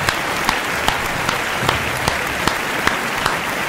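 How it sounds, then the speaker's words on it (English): A recorded applause effect, played on a podcast, gives a steady wash of dense clapping and crowd noise, with sharp clicks popping out at regular intervals throughout. "you want a round of applause? I do want a round of applause. Let me find it."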